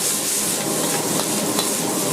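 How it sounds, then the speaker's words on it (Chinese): Cauliflower and scallions stir-fried in a wok over high heat give a steady, close sizzle with faint stirring scrapes and a couple of soft taps, unbroken for about two seconds with no talking. "放入葱段，大火炒至30秒，炒出香味"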